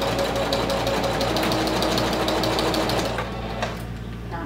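Domestic sewing machine stitching through vinyl for a clutch wallet, a steady rapid mechanical whirr with fast needle chatter running continuously up close, easing slightly near the end.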